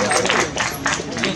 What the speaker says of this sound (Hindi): विकास जी के लिए तालियां